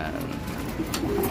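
Racing pigeons, newly brought breeders in a loft, cooing in soft repeated low murmurs close by, with faint background movement.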